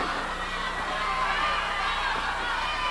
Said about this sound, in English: what a phenomenal crowd here at the Tulsa Convention Center, and they're so vocal on this hot July night